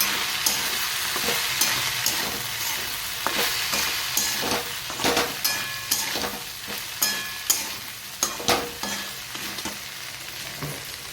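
Spiced okra with chilli powder, garam masala, hing, coriander-cumin and salt is stirred in a sizzling pan, with a steady fry underneath and repeated sharp scraping clicks of the spoon growing more rhythmic toward the end.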